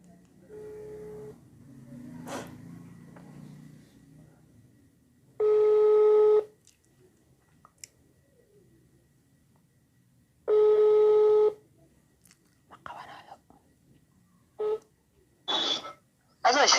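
Telephone tones during a prank call: two long, steady beeps spaced apart, followed by several short dialing tones near the end, with quiet throat clearing in between.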